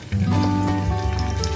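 Tofu crackles and hisses steadily in a shallow layer of oil, a dense wet sizzle that starts abruptly and holds for the whole moment, close and fairly loud.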